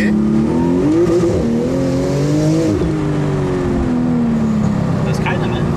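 A Porsche 911 GT2 RS rear-wheel-drive car accelerates hard, the engine pitch climbing through gears in loud sweeping rises and dips, heard from inside with a person talking over it.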